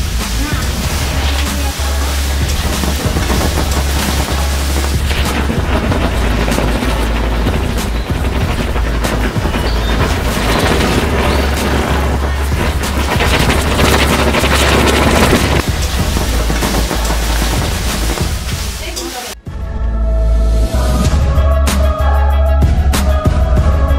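A chakri spinner firecracker lit for Holi burns with a loud, continuous crackling hiss for about twenty seconds, broken by a brief gap near the end before the sparking resumes.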